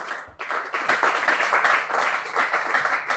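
Congregation at a French-language church service applauding, dense sustained clapping from many hands after a brief dip at the start, loud and continuous throughout.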